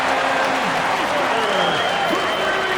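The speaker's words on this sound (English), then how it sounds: "This Boston crowd ready to roar in this Eastern Conference matchup for the Celtics." Crowd noise in an NBA 2K26 Celtics versus 76ers arena broadcast, a constant loud roar filling the whole stretch with a commentator talking over it.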